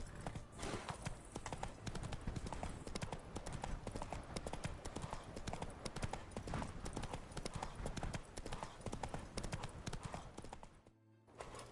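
Horse hooves gallop steadily in The Witcher 3 video game, a dense continuous clip-clop rhythm close and loud throughout, with a brief neigh and scattered game ambience.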